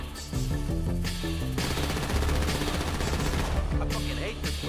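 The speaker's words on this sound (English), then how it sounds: "They got me pinned down, shoot that gas can!" Dense gunfire rattles through a GTA V shootout during a repossession mission, with rapid bursts and overlapping shots as in a fusillade, loud and near, and a voice briefly heard amid the shooting.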